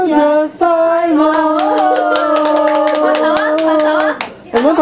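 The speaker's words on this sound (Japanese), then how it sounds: "我们拍手，拍手，拍手！" Rhythmic hand clapping at a child's first birthday party, steady claps layered under a sustained sung or chanted voice, close and loud, with a voice joining in.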